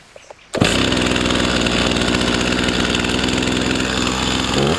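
A Stihl MS 261 C chainsaw started with a pull cord: a brief pull rattle, then the engine catches and runs loud and close at a steady rough idle.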